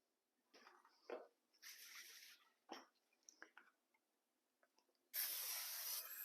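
Cooking spray hisses into a bread pan for buttermilk yeast bread in two close, sharp bursts, a shorter one early and a longer one at the end, with small clicks and handling noises between them.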